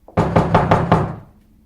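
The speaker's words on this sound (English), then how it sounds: "It was a loud knock" Five loud, evenly spaced knocks on a front door, sharp and close, with no voices, followed by a short fade into silence.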